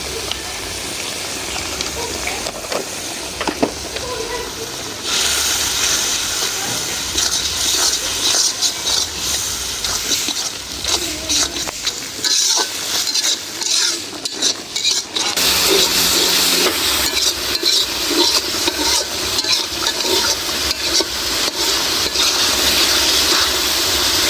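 Chili, coriander and cumin powders sizzle and fry in hot oil in a pan, a steady loud hiss with spatula scraping and clinks of metal against the pan throughout.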